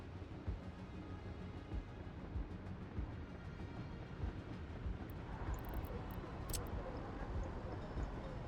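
Locomotive train in a Siberia-set video game, a steady low rumbling engine drone with a constant rolling texture, moderately loud and unbroken throughout, with no talking.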